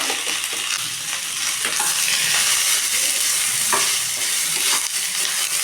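Tomatoes and spices, including fennel seed, cloves and cinnamon, sautéing in hot oil for a rajma gravy, with a steady loud sizzle and frying crackle broken by repeated scraping stirs of a spoon in the pan, with no talking.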